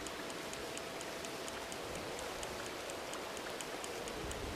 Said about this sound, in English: Got a good little rain going on right now, so that might make the fish come out more.